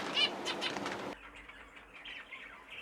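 Zebra finches flap their wings inside a finch flight aviary, a close burst of fluttering that cuts off abruptly, followed by faint chirps and quiet room noise.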